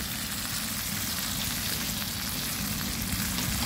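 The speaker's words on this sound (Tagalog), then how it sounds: "Galunggong ngayon po yung ating piniprito po." Dried galunggong fish fries in hot oil in a pan, a steady close crackling sizzle that runs on its own without pause.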